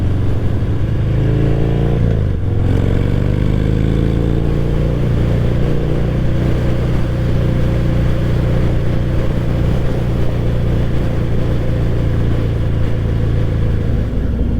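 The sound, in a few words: motorcycle engine revving while riding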